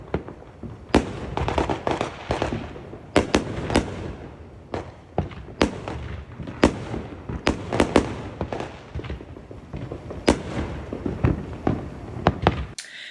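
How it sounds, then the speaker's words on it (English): A backyard fireworks show: loud, sharp bangs and crackling bursts go off irregularly and close together across the whole stretch, with no voices. "Insert footage of the most phenomenal backyard fireworks show"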